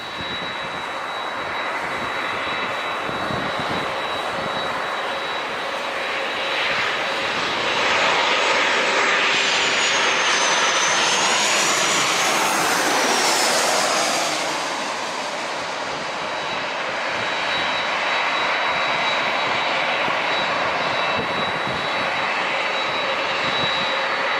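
A FedEx jet throttles forward for takeoff at San Diego International, its engine roar swelling to a loud peak with a rising whine in the middle before easing back to a steady rumble, no voices.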